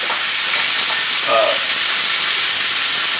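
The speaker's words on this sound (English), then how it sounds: "I'm just gonna sear it a little bit." Beef tenderloin sears in a hot pan with a loud, steady sizzle and hiss close up, continuous throughout.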